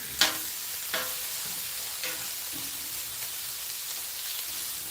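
Bacon sizzles steadily in a pan with a dense, even crackle, a few sharper clicks rising out at the start and again around a second and two seconds in; no voices.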